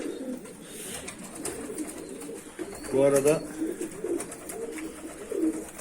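Low, repeated turtle dove coos come in short bursts over a steady murmur of talk, with one louder cooing phrase standing out near the middle.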